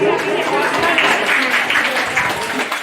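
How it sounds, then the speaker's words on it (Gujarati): An audience at a Naik Maratha community mehndi competition applauds loudly, with dense clapping over crowd noise for the whole stretch. "એકવાર જોરદાર તાળી અને થેન્ક યુ"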